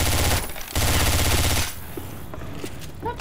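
Shotgun fire in Left 4 Dead 2, loud rapid bursts of blasts in two dense stretches separated by a short gap, then quieter clatter and small clicks trailing off.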